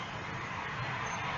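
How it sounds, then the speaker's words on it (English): Steady, low road traffic hum rolls by in the background, a continuous distant wash of passing vehicles with no voices. "I want you to notice if you can hear the hum of the traffic behind me"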